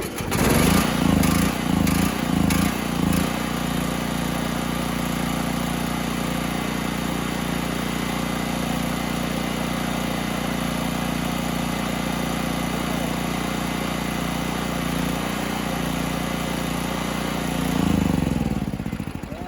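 A Generac XG7000E portable generator engine sputters a few times, then settles into a loud, steady running drone close by, rising briefly near the end.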